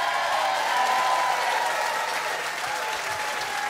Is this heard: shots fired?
no